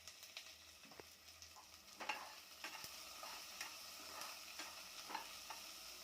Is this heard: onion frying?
yes